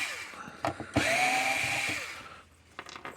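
A power screwdriver whirs in short bursts and one longer sustained run, close by, as screws are backed out of the case of a Gallagher W210 weigh scale.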